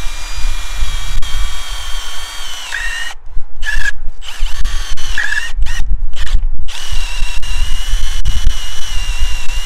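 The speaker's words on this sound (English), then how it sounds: "So what I'm going to do is drill my hole right under there" A power drill bores a hole for a farm gate hinge, whining loud and close with a steady high pitch, cutting out in several short stops and restarting before running on.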